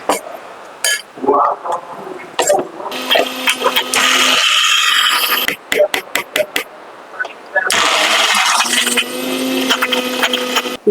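A mixer grinder whirs loudly while grinding soaked urad dal into a thick batter, in two long steady runs separated by a short pause, with clatter and voices in between.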